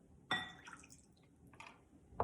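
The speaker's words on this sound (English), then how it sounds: "We're gonna add rice wine vinegar, about a quarter cup." Rice wine vinegar poured into a bowl for an orzo pasta salad makes a few quiet, brief liquid splashes and drips, close by, separated by near silence.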